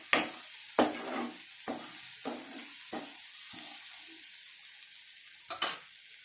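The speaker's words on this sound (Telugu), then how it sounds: "ఇవి ఉడికించుకున్న బొబ్బర్లు బాగా కలిపేసుకోవాలి." A spoon stirs cooked black-eyed peas into a simmering tomato curry in a pan, with about seven distinct scraping strokes spaced roughly a second apart over a steady low sizzle, close and without talking.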